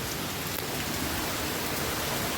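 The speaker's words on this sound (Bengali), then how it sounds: "দেখো অনেক বৃষ্টি হচ্ছে" Heavy rain pours down as a loud, close, unbroken hiss of dense drops that stays even from start to finish.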